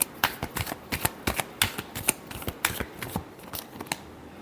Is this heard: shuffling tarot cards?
yes